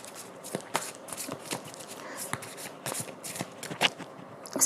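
Tarot cards are shuffled and handled close up, making soft, irregular riffling and flicking sounds with sharper snaps scattered throughout.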